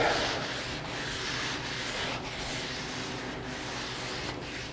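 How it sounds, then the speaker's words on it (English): Scuff sanding by hand across a stained wood surface on a pie safe: a steady, close, dry abrasive rubbing in repeated back-and-forth strokes, with no voices. "once it's scuff sanded"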